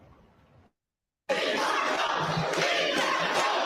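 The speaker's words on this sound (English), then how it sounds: "The crowd voicing their opinion, strongly opposing the addition of migrants in their community" A packed crowd at a public forum in a high school loudly voices opposition to housing migrants, a dense roar of shouting and chatter starting abruptly after a brief quiet voice and a gap.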